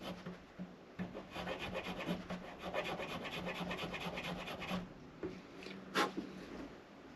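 A file rasps back and forth through a guitar nut slot in quick, steady strokes, close and fairly quiet, stopping near the end before a single sharp tap.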